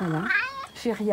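A Maine Coon cat gives a short meow, closely mixed with a person speaking nearby.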